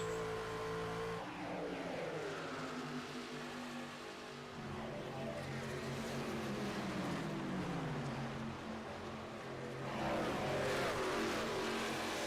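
Several racing truck engines roar in a sim racing game at Charlotte, among them the number 16 Hooters truck, a steady layered drone with rising and falling pitch sweeps as the trucks accelerate and shift.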